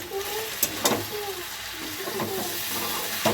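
Potatoes fry in a pan with a steady, close sizzle and a few stirring scrapes. A faint voice sits under the cooking noise.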